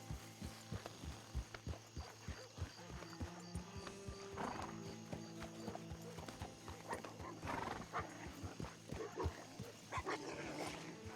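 Horse hooves clip-clop in a steady rhythm in Red Dead Redemption 2 roleplay, with a whinny partway through and dog-like barks and game ambience mixed in.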